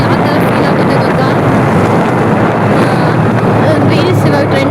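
A scooter ride with steady engine drone and heavy wind buffeting the microphone, loud and continuous throughout.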